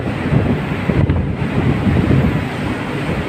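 Strong wind buffets the microphone on the outer deck of a passenger ship at sea, with a constant loud roar and rushing waves beneath it, no voices present.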